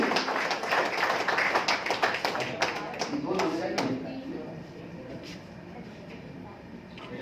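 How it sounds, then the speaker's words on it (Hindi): Loud applause at an evening event honouring women social workers at the Academy of Fine Arts, a burst of clapping that fades away partway through, followed by quieter room sound. "इनकी जोरदार ताली होनी चाहिए"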